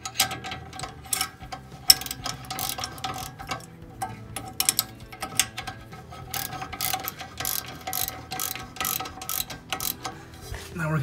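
A socket wrench ratchets a bolt snug, giving quick bursts of fine clicking with short pauses between strokes, close and fairly quiet, with no talk.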